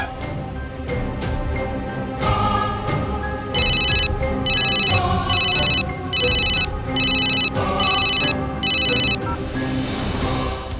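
A phone rings repeatedly without being answered, its bright electronic ringtone sounding in regular bursts over a busy background bed of music or ambience, loud and close throughout.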